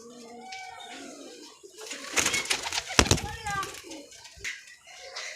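Golden Kasuria and Sialkoti pigeons cooing in low, throaty calls near at hand, with someone talking over them and a burst of wing flapping or handling in the middle.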